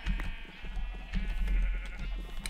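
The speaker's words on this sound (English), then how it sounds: "Sheep." Sheep in Minecraft bleat several times close by, wavering calls over low background noise.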